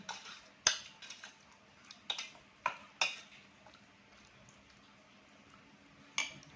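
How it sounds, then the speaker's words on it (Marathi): Chicken being stirred with salt in a pan for a green chilli chicken dish: a handful of sharp metallic scrapes and clinks from a spoon against the pan, spaced irregularly over a quiet background. "थोडंसं मीठ टाकायचं. ह्याला हलवून घ्यायचं."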